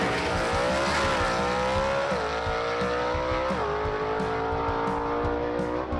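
A 1955 Chevy gasser race car roars through a drag run, its engine a loud sustained howl with the pitch climbing through gear changes and slight dips, heard from trackside without voices.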